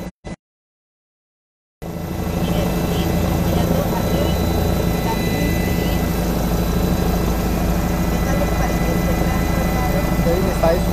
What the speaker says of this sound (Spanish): Imágenes desde el helicóptero halcón de la Policía Nacional de Colombia.